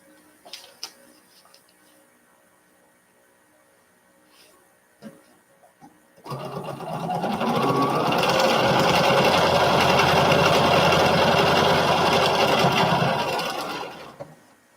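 A sewing machine stitches a quilt seam, first a few quiet ticks and clicks, then a loud, steady whirring run lasting about eight seconds before it slows and stops.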